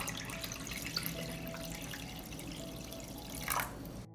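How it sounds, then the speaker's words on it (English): Water pours steadily into a cooking pot holding glass jars, a faint continuous trickling splash with a brief louder gush near the end. "I pour water into the pot."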